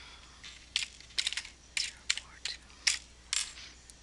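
Several quick clicky keystrokes on a computer keyboard while entering a product search on a website, coming in short uneven bursts against a quiet background.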